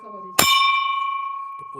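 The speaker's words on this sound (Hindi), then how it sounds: "एक बेर घंटी बजा के देखा दी छी बजी छै कि नहीं।" A single metal temple bell is struck once, ringing out loud and close with a long, slowly fading tone after a brief bit of voice.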